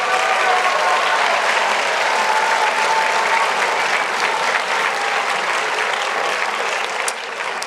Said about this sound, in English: So give all of them a round of applause